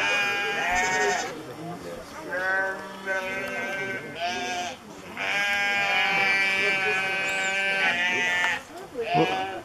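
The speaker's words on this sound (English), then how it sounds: "who's upset the sheep?" Sheep bleating repeatedly on a farm, several loud, wavering calls overlapping one another and close by, with people talking in between.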